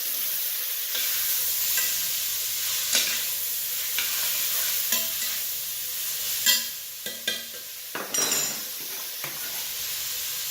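Carrots and other vegetables sizzle steadily while cooking down in a pan for a pasta meat sauce, with several louder scrapes and clanks of stirring scattered throughout.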